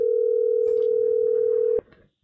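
A Viber call tone on a phone: one loud, steady electronic tone holds for nearly two seconds, then cuts off abruptly, with a few faint background noises after.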